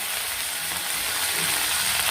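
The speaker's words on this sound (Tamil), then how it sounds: "ஒரு சின்ன துண்டு பெருங்காயத்தையும் போட்டு அந்த பெருங்காயம் நன்னா பொரியணும்" Steady hiss and crackle of asafoetida sizzling in hot oil with curry leaves while making tomato thokku, continuous and close, with no voices.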